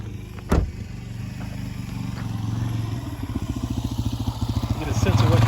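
A motorcycle approaches on a road, its engine building from a low rumble into a louder, pulsing drone that grows closer toward the end, heard from inside a Volvo XC90 with a brief thump early on.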